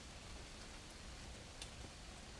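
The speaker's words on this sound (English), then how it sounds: "It's raining finally." Rain pours just outside an open door as a steady, soft, even hiss, faint and constant, with a couple of tiny drip ticks.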